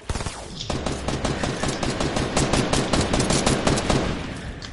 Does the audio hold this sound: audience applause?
no